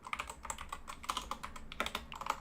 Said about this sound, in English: My bad, y'all hear typing